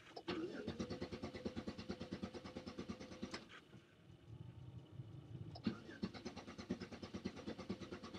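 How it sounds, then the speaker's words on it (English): A van's starter cranks the engine over and over in a fast rhythmic churn without catching, in two bursts separated by a short pause. "I'd be driving right now if the car would start."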